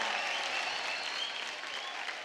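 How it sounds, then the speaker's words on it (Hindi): On a TV singing competition stage, a studio audience applauds in a dense, steady wash of clapping with no breaks. "एक बार जोरदार तालियां हो जाए"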